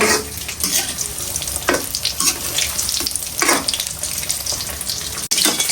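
Snacks frying in hot oil in a home kitchen: a steady, loud crackling hiss with periodic bursts of stronger sizzle, no voices.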